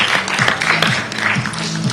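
Audience applause at a sustainability conference honouring a young CEO, a short burst of dense clapping with steady rhythm, close and fairly loud, with a low tonal hum beneath.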